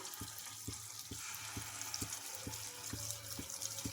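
Corn bondas fry in hot oil over a high flame, a steady faint sizzle and bubbling with a soft rhythmic thumping underneath, no voices.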